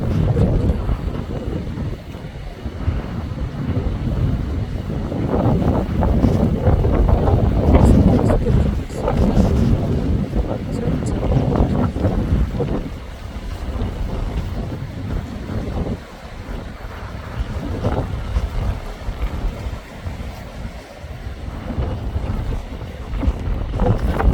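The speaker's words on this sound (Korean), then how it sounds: "호산천에 물이 엄청 흐르고 있습니다." Swollen Hosancheon stream in Samcheok rushing in flood after Typhoon Khanun, a steady loud broadband roar of water mixed with gusty wind buffeting the microphone throughout.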